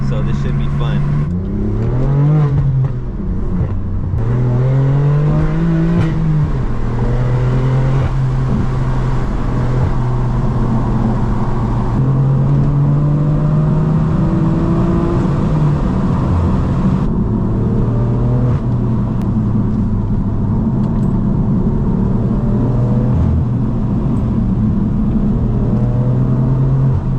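A BMW M4 F82 with a manual gearbox and loud exhaust is driven fast on a canyon run on new tires. The engine note climbs through repeated revs and gear changes, sustained, close and loud from the cabin.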